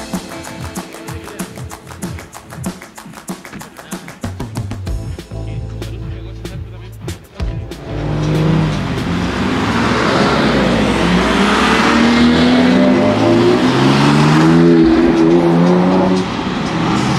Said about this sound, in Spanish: vamos a darnos una vuelta cortita con el clásico BMW que tengo, así que vamos a ver cómo se comporta